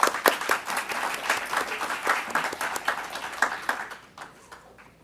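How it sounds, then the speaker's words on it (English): An audience at an annual members' meeting breaks into a round of applause, dense clapping that holds for several seconds and then thins out and fades. "If I could please invite you to extend one more round of applause for our guests."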